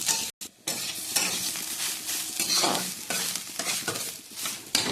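Kohlrabi with salt and turmeric fries in a pan while being stirred, giving a continuous close sizzle broken by steady scraping strokes and a brief dropout near the start.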